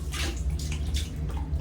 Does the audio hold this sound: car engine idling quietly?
no